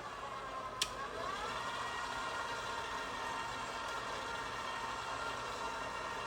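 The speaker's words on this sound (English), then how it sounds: "we're going to mix the dry ingredients together just on a low setting really quickly with the paddle attachment." A stand mixer with a paddle attachment runs on a low setting with the dry ingredients of a Southern tea cake batter, a steady motor hum with a rising whine after a sharp click, continuous and fairly quiet with no talking.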